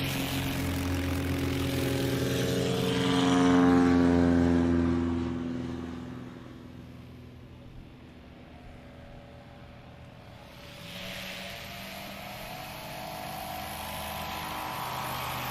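A small STOL aircraft on its takeoff roll at a STOL competition practice in Oregon, its propeller engine droning and swelling as it passes, then fading and rising again at a moderate distance.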